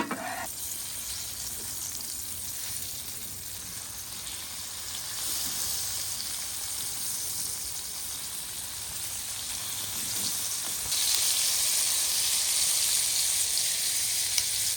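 Steak fries in grease on a griddle with a continuous loud crackling sizzle that swells slightly louder toward the end. No voices are heard.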